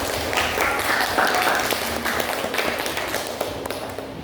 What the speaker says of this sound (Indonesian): Ya, kita beri tepuk tangan dulu.